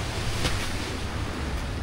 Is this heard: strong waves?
yes